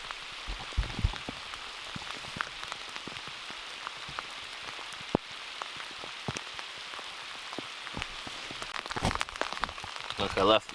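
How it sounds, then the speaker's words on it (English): Rain falls on a camping tent during a solo overnight trip in Algonquin, a steady soft patter broken by frequent sharp drips and taps close by. "I'm drenched, man. It's freaking raining."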